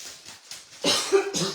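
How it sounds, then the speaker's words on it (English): A few quick coughs, soft at first and then a louder, harsher burst of rough coughing up close. "I'm sorry for coughing"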